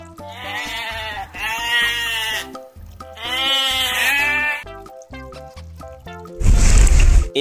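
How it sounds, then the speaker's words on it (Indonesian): Sheep bleat in two long, wavering calls over light background music, each lasting over a second, followed by a louder, noisy burst at the end. "Ini adalah domba."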